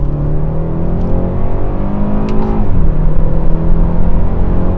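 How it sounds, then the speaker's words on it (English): A 2017 BMW 330i xDrive in Sport Plus, shifting in manual mode, revs loudly and rises in pitch through quick gear changes, each shift giving a brief dip before the engine climbs again, heard close with no talking. "All right, downshift into manual. Listen to these shifts."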